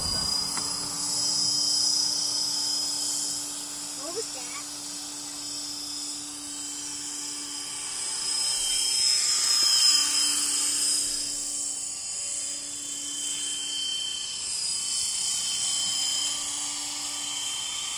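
A steady high-pitched whine of a toy helicopter's small rotor buzzing continuously in flight, with a brief swell in the middle, fairly close and without speech.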